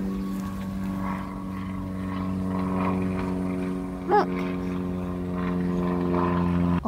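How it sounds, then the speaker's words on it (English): Propeller airplane droning overhead outdoors, a steady low engine hum with harmonic tones holding throughout at moderate distance, with a brief spoken word partway through. "There's a plane."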